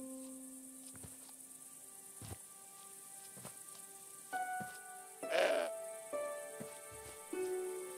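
A goat bleats in the Broken Sword 5 video game, a single bleat near the middle standing out over quiet ambient game music, with faint insect-like chirping in the background.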